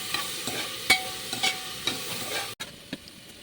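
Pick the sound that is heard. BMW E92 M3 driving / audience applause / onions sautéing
onions sautéing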